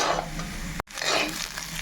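Cleaned snails fry with onion, ginger and garlic in a pan. A soft, steady sizzle with stirring scrapes breaks off for a moment, then resumes at low volume. No one speaks.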